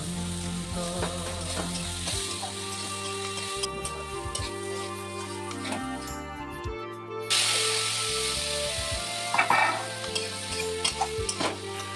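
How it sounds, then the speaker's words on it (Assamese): Cauliflower and potato pieces fry in a pan for a fish curry, a steady close sizzle with stirring scrapes running throughout over faint tonal background sound. "ফুলকবি আৰু আলুখিনি অলপ ভাজি ললো"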